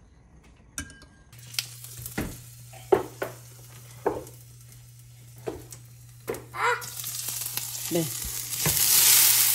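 Food stirred while frying in a pan, with a series of spaced clinks and scrapes of a utensil against the pan over a low background, building into a louder, denser sizzle near the end; a voice briefly speaks.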